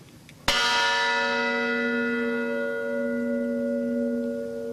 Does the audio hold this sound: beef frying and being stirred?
no